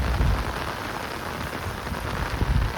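Continuous rain pours on a farm garden with coconut trees, a close, even wash of drops and patter that holds steady throughout, with no one speaking.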